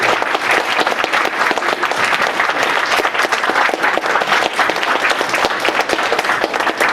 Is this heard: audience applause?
yes